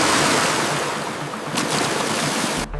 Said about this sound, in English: cannonball! Watch this big splash!